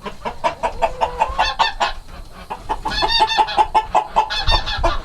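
Laying hens clucking in a farm hen house with rollaway nest boxes, a dense, loud chorus of repeated clucks and calls from many birds close by, with no talking.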